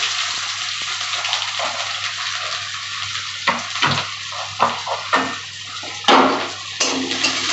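Chopped onions fry in oil in a pan for spiced baby potato curry, a loud continuous sizzle with periodic swells and scrapes as they are stirred, close up, over a low hum.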